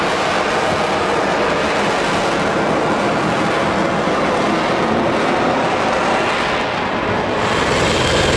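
A V-22 Osprey tiltrotor aircraft coming down to land in a park, its loud, steady rotor roar and rushing wash filling the whole stretch without a break.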